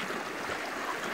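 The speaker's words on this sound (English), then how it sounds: "River." Steady broadband rush of a river flowing beside a hiking trail in Whitewater Preserve near Desert Hot Springs, California, close and continuous with no talk.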